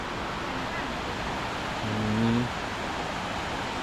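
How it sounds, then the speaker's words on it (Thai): Water flows steadily along the Pha Dok Siao nature trail, a constant broadband rush filling the whole clip, with a brief murmur of voices partway through. "ชอบน้ำไหลๆอย่างเงี้ย"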